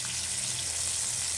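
Water hits a hot pan of spice mixture for Bengali-style pomfret jhal and sizzles and hisses steadily and loudly up close, with a dense, even crackle and no voices.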